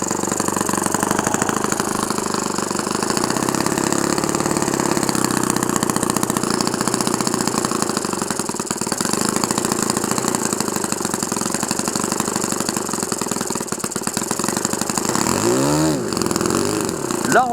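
An OS FS 52 Surpass model four-stroke glow engine runs steadily at a constant buzzing drone, loud and close, then revs up briefly near the end.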